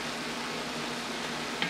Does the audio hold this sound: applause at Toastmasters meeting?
no